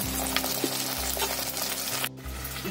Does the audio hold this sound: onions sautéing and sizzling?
yes